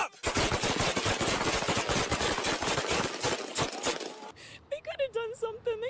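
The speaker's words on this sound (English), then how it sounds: "Body cam video shows he raised a shotgun at officers, causing 7 different officers to fire shots." Rapid burst of many gunshots as several police officers open fire in a body camera recording, loud and dense for about four seconds, followed by shouting voices and an engine hum.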